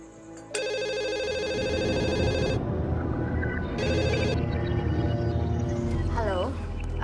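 A telephone rings with a loud electronic trill in two clear bursts, close by, over a busy background of movement and a voice.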